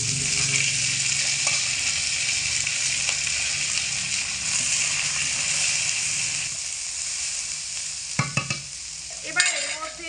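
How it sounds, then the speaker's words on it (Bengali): Vegetables stirred and fried with flattened rice in a pan over medium heat, a steady broadband sizzle running throughout with occasional scraping clatters of a spatula near the end. "একটু নাড়াচাড়া করে ভেজে নেব।"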